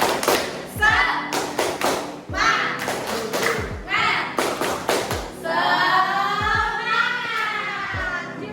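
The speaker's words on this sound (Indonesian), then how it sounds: "tunjukkan semangatmu dengan tepuk semangat" A class of children in a classroom claps a quick rhythmic Indonesian "tepuk semangat" pattern, sharp claps in bursts interspersed with chanted voices, then a sustained sung shout near the end.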